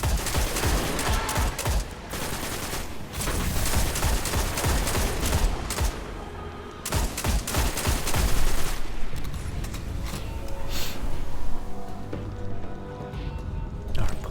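Gunfire in the video game Destiny: dense bursts of shots and rapid fusillades, loud and near, with clustered volleys throughout and a brief lull midway.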